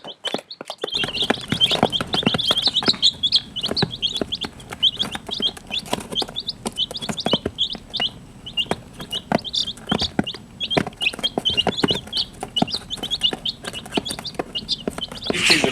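A brood of young chicks about two weeks old cheeps continuously in high, rapid peeps, with scratching and shuffling sounds nearby and no talk.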